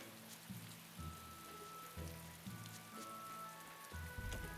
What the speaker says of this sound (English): It rains so much in Westgand.